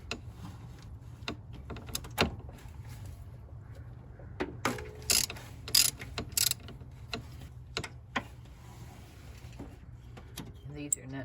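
A ratchet backs nuts off the studs on the valve cover of a 4-liter 2014 Toyota Tacoma. It makes quick clicking pawl bursts and metallic clanks in scattered groups, with faint talk under it.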